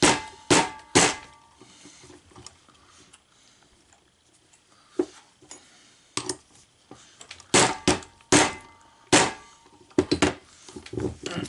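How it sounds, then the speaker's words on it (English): A hammer whacks a socket fitted over a part of a 2.4L engine's starter during teardown, sharp metallic strikes landing in irregular bursts of two or three, close and loud, with quiet pauses between them. "You put the socket on there, you kind of whack it with a hammer."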